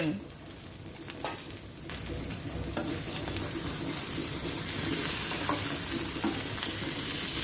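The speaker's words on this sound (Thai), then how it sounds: "ไข่เจียวทรงเครื่องมันก็เหมือน เอ ไข่เจียวละค่ะ เพียงแต่ว่าเราใส่ไข่มดแดงเยอะเราใส่เครื่องเยอะ" An omelette with plenty of red ant eggs and seasonings sizzles and crackles steadily in hot oil, with occasional stirring scrapes, loud and close throughout with no talking.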